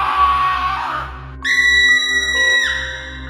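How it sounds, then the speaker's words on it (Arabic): Terrified screams ring out from inside a room as a horror-story effect, shrill sustained shrieks rising loudly over a steady low rhythmic musical pulse. "صرخات مرعبة من الداخل"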